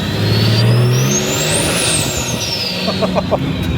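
A loud TD42 turbo diesel engine roars close by with a rising and falling turbo whistle, steady and powerful throughout.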